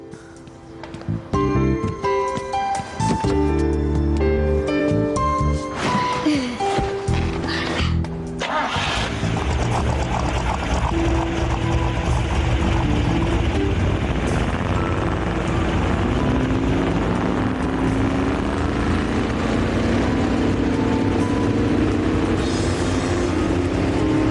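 A car engine starts and then holds a loud, sustained high-rev roar with the accelerator pressed down, droning on steadily after a short burst of music at the start.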